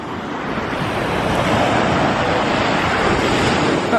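Sea waves breaking in a steady, continuous rush of surf, with a broad wash of sound that swells slightly and holds for the whole stretch, no voices.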